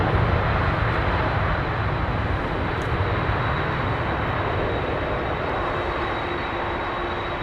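Jet engines of a Boeing 767-400 airliner at Heathrow give a steady, loud, broadband roar that holds constant throughout, close and unbroken.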